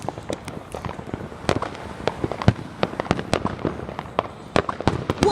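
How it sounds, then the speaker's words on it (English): Many fireworks explode outdoors in quick succession, with sharp loud cracks and booms of varied size and distance overlapping in a dense, irregular barrage. "Man, there's a lot of fireworks."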